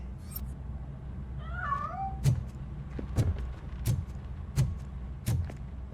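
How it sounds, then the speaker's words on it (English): A cat in Robocop: Rogue City gives a short drawn-out meow, followed by a series of evenly spaced heavy thumps, all under low background hum. "That cat must be hiding inside."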